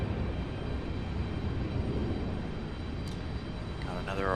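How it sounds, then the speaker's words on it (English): Airbus A319 jet departing Raleigh-Durham International Airport, a steady broad engine roar at constant loudness from start to end, with a brief whine and a voice-like sound near the end. "Beautiful A319 departure, if I can keep up with it."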